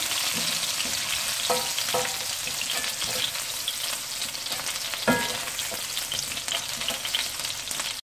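Chicken fries in hot oil with a loud, steady, close sizzle, broken by scattered pops and crackles and stirring clicks, lasting about eight seconds with no talking.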